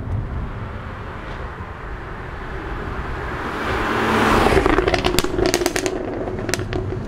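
A 2015 Jaguar F-Type R AWD exhaust heard from behind while driving, building from a low steady drone into a louder, rougher roar with sharp crackles and pops near the end.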